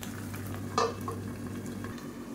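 Tomatoes and onions cook under a lid in a pan with a little added water, giving a steady low simmer and sizzle, with one sharp clink of lid or utensil and faint stirring scrapes.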